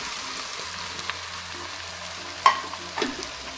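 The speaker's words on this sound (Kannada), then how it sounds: "ಇದನ್ನು ಮೊದಲು ಹಾಕಿ ಫ್ರೈ ಮಾಡೋಣ ಕೊಬ್ಬು ಇದ್ದರೆ ಎಣ್ಣೆ ಹಾಕುವ ಅಗತ್ಯ ಆದರೆ ನಾನು ಸ್ವಲ್ಪ ತುಪ್ಪವನ್ನು ಸೇರಿಸಿದ್ದೇನೆ" Country chicken pieces frying in their own fat with a little ghee, a faint steady sizzle throughout with a couple of sharper stirring clinks and pops near the end.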